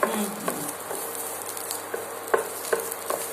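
Gooseberries roast in a pan with a soft, steady sizzle, broken by several light scraping stirs and taps spaced irregularly across the short stretch.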